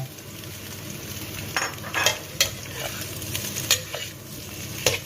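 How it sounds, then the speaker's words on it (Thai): Egg is stir-fried in a pan with garlic and chili for a Thai holy basil omelette, giving a steady close sizzle broken by repeated clinks and scrapes of a spatula tossing it back and forth. "ก็ผัดกลับไปกลับมานะคะ"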